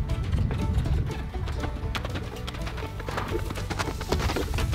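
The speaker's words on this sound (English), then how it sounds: "So, let's turn this little horse loose." A young colt turned loose in a pen, moving around with a dense run of hoof thuds on the ground under loud, steady rumbling background noise.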